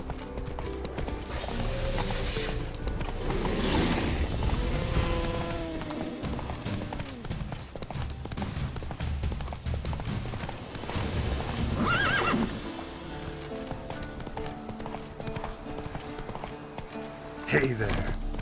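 Roach the horse in The Witcher 3: repeated clip-clop of hooves and a couple of loud whinnies, close up, with game mechanisms and a voice speaking over them.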